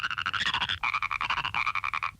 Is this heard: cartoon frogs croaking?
yes